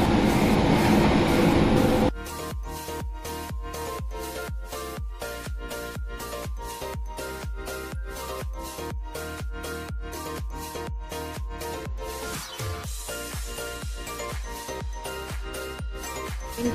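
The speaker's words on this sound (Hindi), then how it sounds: "ट्रेन की स्पीड 120 से ऊपर ही है" A Flixtrain passenger train runs between Gothenburg and Stockholm at over 120 km/h, heard from inside as a steady, loud rolling rumble with rapid rhythmic wheel clacks over rail joints and a brief louder rush at the start.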